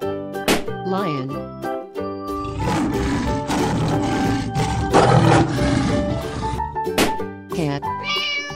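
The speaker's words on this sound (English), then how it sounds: "Lion." A lion roar from a children's animal slide game rumbles out as a broad, harsh growl lasting several seconds, framed by bright musical notes and short cartoon effects before and after.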